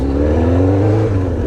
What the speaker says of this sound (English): I'm not in a rally car, I'm on a super sport bike